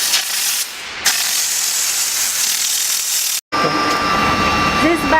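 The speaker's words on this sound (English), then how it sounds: "When the steam comes out, you can not hold tight the steam gun." Steam gun spraying from a diesel mobile steam car washer, a loud, steady hiss with a short break, then a rougher spray with mechanical rattling and a faint tone.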